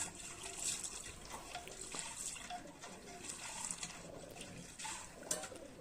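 Water is poured into a container and swirled to rinse it, a steady splashing, trickling flow with dripping close by, running alone without any voices.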